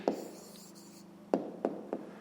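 Someone writes out the answer to a fifth-grade maths exercise: a faint pen or chalk stroke, then three short, distinct taps against the writing surface, quiet and close with no talking.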